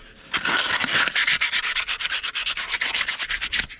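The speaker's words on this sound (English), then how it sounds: "it's going to use a bit 400 grit sandpaper" Close, steady rubbing with 400-grit sandpaper on a Peugeot 407 front pivot arm axle bush carrier, a rapid run of even back-and-forth strokes with no talking.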